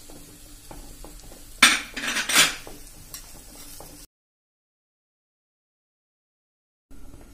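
A metal ladle clinks against a pot as a tempering of spices in hot oil goes into boiling Kathiyawadi kadhi. A short, louder burst of sizzling and clattering follows, then silence.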